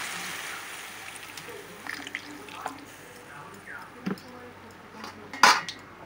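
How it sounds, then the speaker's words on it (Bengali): Water goes into a pot of ash gourd and soybean curry with a soft splash, amid clinking utensils and scraping metal, including one sharp clank. "এবার জল দিয়ে দেবো।"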